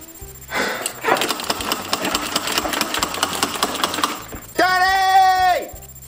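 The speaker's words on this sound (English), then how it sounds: "the vacuum's not sucking" A vacuum cleaner that is not sucking runs with a rough, pulsing motor roar for several seconds, then cuts off as someone lets out a loud, drawn-out cry.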